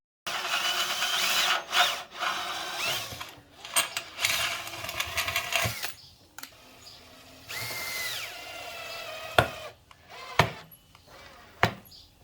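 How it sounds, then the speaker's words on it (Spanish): A power drill bores holes into flat stainless steel plates for a rocking chair built from pallet wood, whining in several bursts of varying pitch with pauses, then giving way to short sharp knocks and clatters of metal near the end. "ir haciendo taladros a las pletinas e ir fijando las tablas con unos tornillos"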